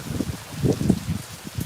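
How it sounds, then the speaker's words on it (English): Incoming rain patters in soft, irregular bursts outdoors, faint and close, with no talking. "Oh, but that rain's going to wash some of the pollen too."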